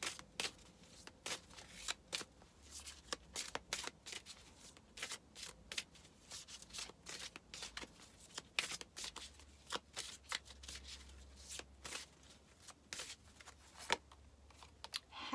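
Soul lesson oracle cards being shuffled by hand, with a long run of soft, close riffling and flicking cards in irregular bursts over a quiet background, no talking.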